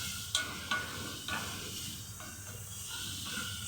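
Onions sautéing in a pan, a quiet steady sizzle with a few sharp stirring clicks near the start and soft hissing continuing after.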